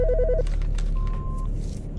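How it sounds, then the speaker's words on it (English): A telephone in the Autopsy Simulator game gives a short, warbling electronic ring at the start, followed by a brief steady tone over a low background hum. "The fucking phone."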